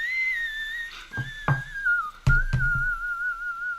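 A whistled intro melody from a song, clear and sustained with gliding pitch, is interrupted by a few soft thumps and clicks, with no voices.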